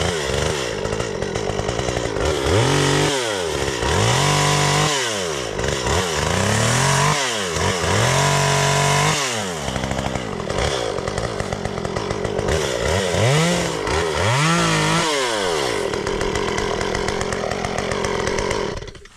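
A chainsaw trims tree branches near an electric fence, its engine snarling loudly and steadily for nearly twenty seconds with repeated revving surges and dips as it bites through the wood, no voices.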